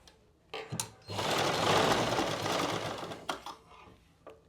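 Sewing machine stitching a pocket onto plazo pants: two brief taps, then a continuous close whirring run of stitches for about two seconds, followed by a few short stitch bursts, with no talk.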